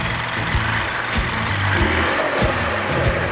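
A car with a 3-liter twin-turbo V6 making 365 horsepower, paired to a 10-speed automatic, hums steadily and close with a mid-pitched engine drone and light revving, no voices present.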